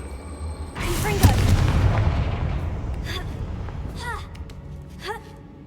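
A Confringo fire-blast spell goes off in Hogwarts Legacy with a loud, booming explosion that rumbles and slowly fades, while a voice shouts the incantation and brief vocal exclamations follow.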